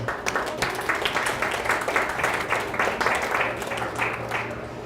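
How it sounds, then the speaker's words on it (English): An organization's audience at an update meeting applauds, many distinct hand claps in a steady, moderately distant patter, with a low hum underneath throughout. "I actually would like to give you guys a round of applause for helping us get there"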